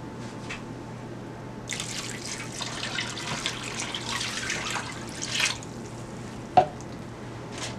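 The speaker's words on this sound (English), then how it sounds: "So now I'm gonna put 4 cups of water." Water pours into a pot of soaked, washed split peas, giving a soft, splashy run of a few seconds followed by a single small knock, all fairly quiet and close.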